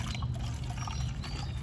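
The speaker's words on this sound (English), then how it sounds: "Using the plastic cup or the paper bowl and letting gravity take the water down" Water drains through a plastic cup onto garden plants, a soft continuous pour and trickle over a low background hum.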